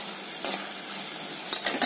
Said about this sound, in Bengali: এখানে চিংড়ি মাছ ভাজা হচ্ছে